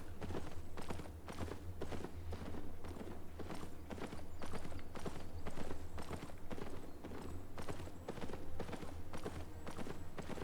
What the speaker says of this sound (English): This is my horse. My horse is amazing.